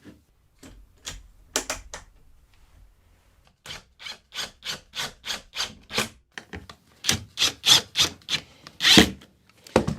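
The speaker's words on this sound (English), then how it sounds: "So first, I'm going to get a clamp on." Clamp ratcheting onto wooden pieces during a shelf build: a long train of short, sharp clicks, at first scattered, then in steady quick bursts, up close and with no voices.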